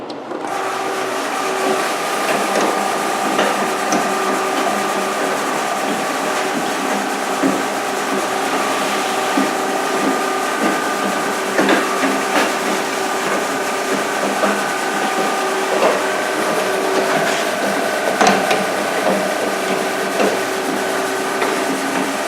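Rebuilt moss catcher running with its motor whirring steadily while brushes scrape along the screen, giving a loud continuous mechanical drone with faint ticking and rubbing.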